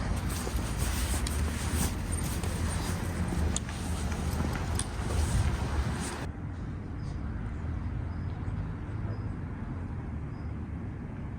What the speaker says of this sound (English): There's still lots of cars here, even in the middle of winter